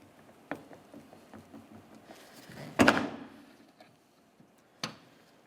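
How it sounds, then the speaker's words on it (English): A rear exterior door handle is pulled free of a 2009-2010 Pontiac Vibe door, making one loud close scraping clunk followed by a shorter plastic tap, among soft handling ticks. "and then you can pull it straight out of the door"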